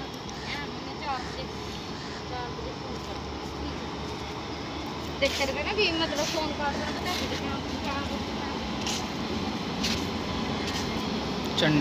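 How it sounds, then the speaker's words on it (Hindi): The Chandigarh Indore Express departs near a freight corridor bridge in Yamunanagar with a steady, broad rumble that swells slightly midway, while someone talks over it. "चलिए अब देखते हैं चंडीगढ़ इंदौर एक्सप्रेस का डिपार्चर।"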